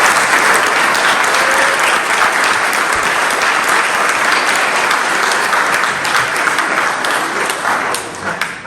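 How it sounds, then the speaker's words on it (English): At an awards night, a large crowd breaks into loud, sustained applause, a thick continuous roar of clapping close to the microphone that stays strong for over eight seconds before dipping briefly. "Let everyone give them a round of applause."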